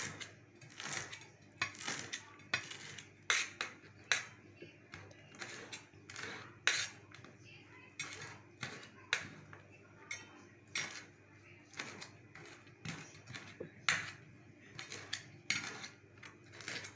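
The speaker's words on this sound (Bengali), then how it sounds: "এখন আমি ধনিয়া পাতাগুলি কেটে নিচ্ছি।" A knife chops coriander leaves on a board for a salad, with quick bursts of sharp taps coming in irregular clusters, close and fairly loud, and no one talking.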